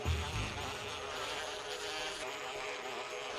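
Giant bee in Resident Evil 1 buzzing steadily, a close, continuous insect whine that holds at an even level for a few seconds, with a brief low thump at the start.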